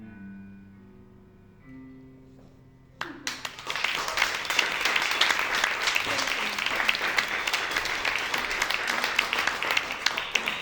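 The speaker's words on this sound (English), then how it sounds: "let's give another round of applause" After a quiet sung or musical close, a cabaret audience bursts into applause, many hands clapping loudly and densely with sharp individual claps standing out, sustained to the end.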